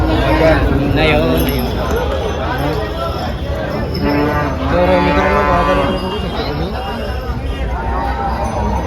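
Cows low and moo amid a noisy crowd at a cattle market in Dhule, with people talking throughout and general bustle close by.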